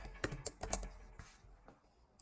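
Keys on a computer keyboard are typed in a quick burst of close, light clicks, about six strokes, then a few softer taps trail off, with no voices.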